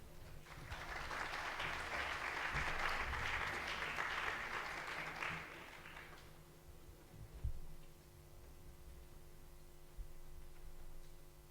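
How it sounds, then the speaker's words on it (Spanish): An audience at a sports management conference applauds to welcome Javier Ballestar, regional delegate of the company Valmar, with a full, even round of clapping that dies away after about six seconds and leaves a quiet room. "Un fuerte aplauso."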